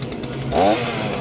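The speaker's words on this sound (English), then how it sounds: "Now we got a chainsaw." A chainsaw in a haunted house attraction gives a brief, loud rev that swells for a moment and drops back under a steady background drone.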